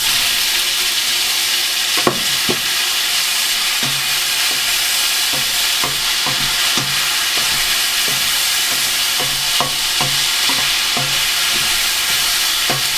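Minced meat frying in a pan with four cloves of finely chopped garlic gives a loud, steady sizzle. Repeated sharp scrapes and clicks of stirring run through it, with no talking.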